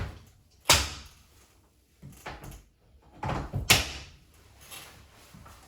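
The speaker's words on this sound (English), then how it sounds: "So next up, we have clipping into the Peloton bike." Cycling shoes clipping into the pedals of a Peloton bike, giving two sharp clicks that stand out clearly, each followed by a few quieter knocks and rustles in a quiet room.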